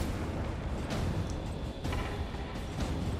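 Point-blank gunshot in the dark fantasy video game Darkest Dungeon 2, heard as a few booming, low blasts and bursts of game combat sound at fairly low level, with no talk over it.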